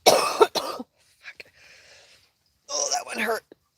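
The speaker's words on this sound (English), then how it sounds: "You ever cough so hard you freaking got a cramp?" A hard, harsh cough bursts out in two quick heavy hacks, followed by a quieter wheezy exhale and then another strained, raspy cough fit, all close to the mic with no talking.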